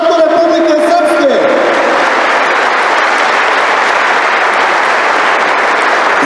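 Loud, sustained crowd applause fills a political rally of the SNSD party in Srbac, Republika Srpska, rising right after a brief voice and continuing as a dense, even wash of clapping.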